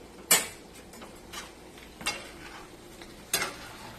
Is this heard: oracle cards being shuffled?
no